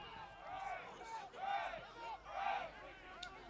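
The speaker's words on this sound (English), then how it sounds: "The first cheer being for the opposing team." A rugby team at a New Mexico Tech match shouts a cheer for the opposing team, three rising chanted bursts from a group of voices at moderate distance, with faint crowd noise between them.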